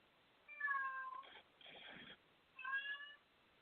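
A pet cat meows indoors, giving two clear, drawn-out calls with a softer, breathy sound in between, close and moderately loud with no talking over it.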